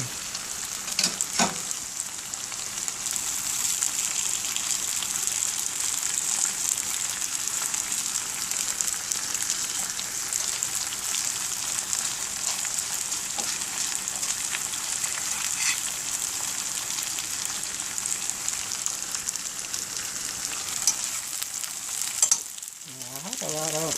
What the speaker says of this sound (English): just put and let it fry itself good